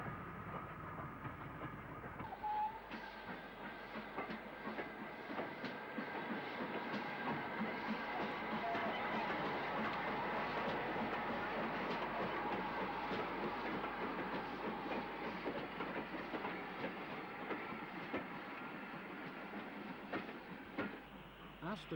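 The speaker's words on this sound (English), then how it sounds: "Aston Sheds 44872 works a freight south on the through lines." A freight train hauled by steam locomotive 44872 passes south on through lines at a station, a long continuous rumble with rhythmic wheel clatter over rail joints, steady and fairly close.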